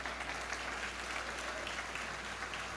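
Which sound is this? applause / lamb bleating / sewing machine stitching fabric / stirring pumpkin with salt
applause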